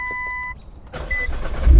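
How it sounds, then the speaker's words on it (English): A Nissan GT-R engine cranks and catches after a brief electric whirr, swelling into a loud, close rumble as it fires up, with no talking over it. "Okay, the car started."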